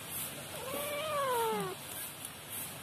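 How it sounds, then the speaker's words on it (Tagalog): A house cat lets out a single drawn-out meow, rising and then falling, at moderate distance in a kitchen where fish is being cooked. "Ang kukulit ng pusa."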